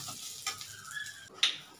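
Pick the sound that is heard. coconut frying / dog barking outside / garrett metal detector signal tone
coconut frying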